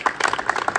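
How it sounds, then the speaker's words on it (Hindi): A classroom audience claps for two students who passed, a short burst of scattered hand claps rising and falling over under a second. "इसलिए दोनों के लिए ताली बजा दो।"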